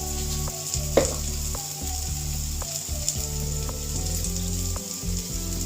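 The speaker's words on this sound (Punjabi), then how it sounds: "ਆਪਾਂ ਟਮਾਟਰ ਤੇ ਪਿਆਜ਼ ਨੂੰ ਭੁੰਨ ਕੇ ਹੁਣ ਆਪਾਂ ਇਹਦੇ ਵਿੱਚ ਮਸਾਲੇ ਐਡ ਕਰ ਲਾਂਗੇ" Tomatoes, onions and spices fry in a pan with a close, steady sizzle, broken by occasional clinks and scrapes of a spoon stirring; no one speaks.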